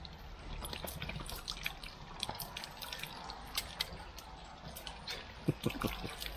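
Running water drips and trickles in an outdoor spot in Cromford, Derbyshire, with quiet irregular splashes and patters over a faint continuous flow.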